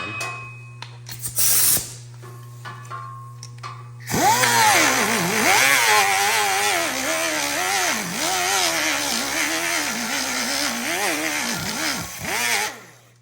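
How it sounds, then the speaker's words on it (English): A flap wheel sanding a Corvette body panel at a coachbuilding shop, starting after a few quieter knocks and running as a loud, continuous whine with rising and falling pitch sweeps as the tool is worked across the surface. "I'll go back to my flap wheel again."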